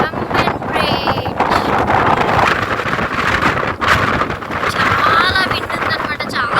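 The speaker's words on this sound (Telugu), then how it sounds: "చాలా విండ్ ఉందన్నమాట, చాలా గాలి వస్తుంది." Fierce wind on Pamban Bridge's railway track over the sea roars into the microphone as a loud, continuous buffeting rush with sharp gusts and no pauses.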